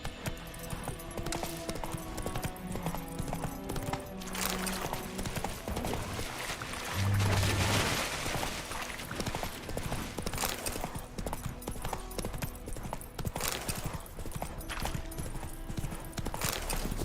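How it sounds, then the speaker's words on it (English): Horse hooves clip-clopping steadily in The Witcher 3 video game, a continuous rhythmic trot over ambient game music and background sound, with no speech. "Whoa there, Roach."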